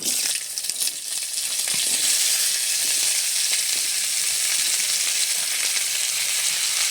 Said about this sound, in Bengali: এখানে দিয়ে দেব ভেন্ডি, বরবটি, আলু, এটাও ভেজে নেব।